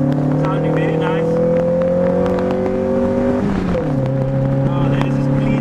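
A custom Honda Civic Coupe engine revs steadily, its tone climbing and then dropping as it shifts, heard from inside the car with people talking over it.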